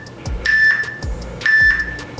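Two electronic timer beeps, each a steady tone of about half a second, sound roughly a second apart, close and clear over faint background noise during a triceps stretch.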